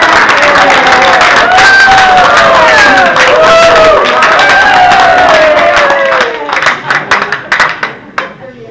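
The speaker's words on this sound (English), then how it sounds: "I always enjoy applause." Applause at the Hopkinton, New York town board hearing on wind projects: a loud crowd claps steadily, with whoops and voices mixed in, before the clapping thins into scattered claps and stops.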